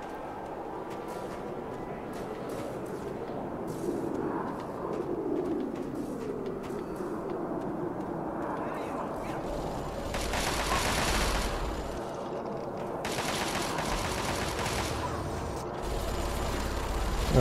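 Battle in the video game Fallout 3, with gunfire and explosions rumbling and rattling at moderate loudness, heavier bursts swelling near the middle and end over a continuous low din.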